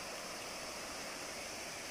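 The Sungai Paku river flows in a steady, hissing rush of water, close and continuous, with no voices over it.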